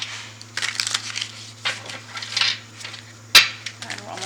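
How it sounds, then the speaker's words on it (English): Tarot cards are shuffled by hand in soft papery bursts of riffling and rustling, with one sharper snap near the end, close and fairly quiet against a low steady hum. "Just a couple more shuffles here."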